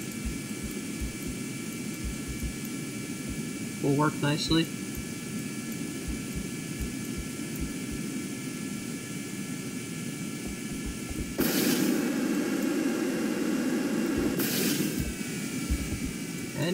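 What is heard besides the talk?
aircraft engine thrust in Kerbal Space Program video game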